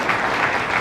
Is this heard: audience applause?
yes